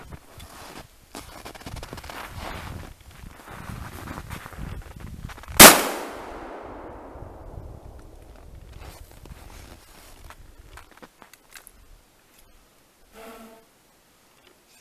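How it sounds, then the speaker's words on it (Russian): A single sharp shotgun blast from the upper barrel of an IZh-27E over-and-under loaded with foam wads, fired outdoors, with a long fading echo after a stretch of quiet rustling. "Сейчас делаем повторный выстрел с верхнего ствола."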